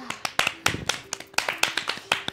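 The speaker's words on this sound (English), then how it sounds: "round of applause I for love Chet" A small group claps in a loose scatter of sharp hand claps, fairly close, with faint voices mixed in.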